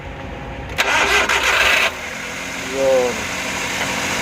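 A gasoline engine fed by a fuel pump cranks for about a second, catches, and then settles into a steady idle, with a brief spoken word near the start and a faint voice near the end.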